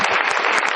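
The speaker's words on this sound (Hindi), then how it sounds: "जोरदार तालियां" An audience at a stage event claps loudly and densely for a short burst, with the crowd's applause close and filling the room.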